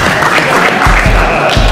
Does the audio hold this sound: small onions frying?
no